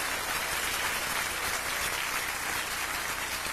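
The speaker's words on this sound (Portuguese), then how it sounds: "aplauso poderoso para o Senhor" A church congregation gives a powerful round of applause in praise of the Lord at a gospel service, a dense, steady wash of clapping filling the space evenly throughout with no voices standing out.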